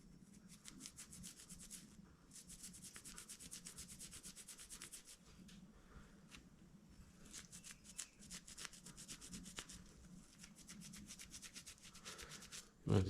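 Cloth soaked in acetone wiping grime off a Wheel Horse lawn tractor starter, a soft, steady back-and-forth rubbing heard up close in quiet surroundings, with a short knock at the very end and no talking.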